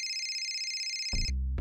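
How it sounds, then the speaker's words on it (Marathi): A mobile phone ringtone for an incoming call chimes in a steady tone, then a louder, fuller burst of the ringtone cuts in near the end, quite close and with no talking. "अरे यार, आईचा फोन आहे"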